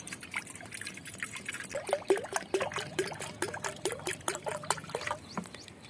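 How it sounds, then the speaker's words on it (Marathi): Water pours into a pot in a quick, splashy trickle lasting a few seconds, gurgling unevenly, with no talking. "एका पातेल्यामध्ये आम्ही घेतलेलं आहे पाणी"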